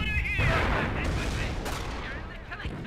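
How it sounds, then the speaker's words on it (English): A mortar and other World War II battlefield weapons fire in a Company of Heroes match, with dense, continuous booms and gunfire rumbling steadily at moderate volume. "And now we do have that mortar firing away."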